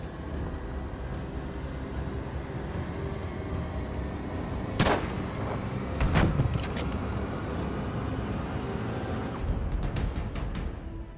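Sniper rifle shots in Battlefield V multiplayer, a few sharp isolated cracks spaced seconds apart over constant rumbling battlefield noise.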